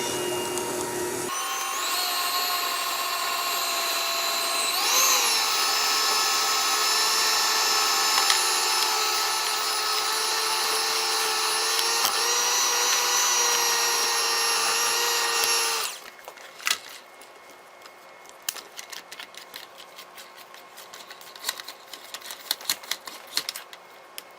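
Stand mixer with a paddle attachment beating cheesecake batter, a loud steady motor whine with a shifting pitch for about fifteen seconds, then stopping, followed by quiet scraping and clinks.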